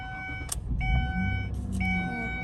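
A Ford Escape with electrical faults is started up, giving a short starter crank and a few clicks before the engine catches, heard close in a quiet cabin.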